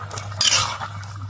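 A metal lid lifted off a cooking pot of fish and papaya curry, one short clattering scrape of metal against metal over a low steady hum, close by.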